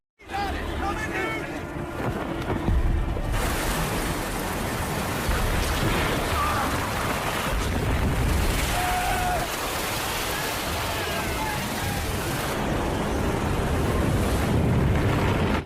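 Stormy sea waves crash against a pirate ship in an action film, a loud, continuous roar of surf and rushing water with wind noise, steady throughout and heavy in the low end.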